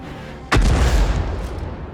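Artillery fire lands on a tank in the video game World of Tanks: a single heavy boom hits suddenly after a quiet moment, followed by a deep rumbling decay with debris-like crackle.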